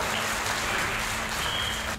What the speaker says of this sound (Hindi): जैसे ही एक युवा ने कामयाब जंप लगाई तो हॉल में बैठे लोगों ने जमकर ताली बजाई